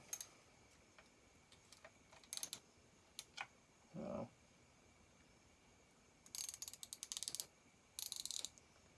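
Socket ratchet working a bolt on a McCulloch 850 chainsaw, heard as short bursts of rapid clicking at close range, a few isolated ticks between, and a brief dull scrape near the middle, with no talking.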